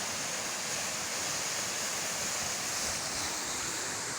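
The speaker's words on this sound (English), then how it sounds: "That's a small waterfall," A small waterfall in the Shiare mountains of Ghana gives a steady, dense rushing roar, continuous and even throughout with no voices.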